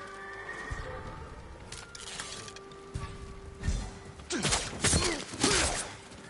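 Samurai horses at a stable in the video game Ghost of Tsushima, quiet at first with a few scattered knocks, then several loud, close whinnies and neighs near the end, mixed with scraping hoof sounds.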